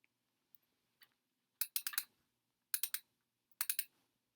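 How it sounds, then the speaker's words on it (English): A lamp switch is clicked on and off in a quiet room: a few faint single clicks, then three close, crisp bursts of rapid clicks. "I'm going to click my lamp on and off."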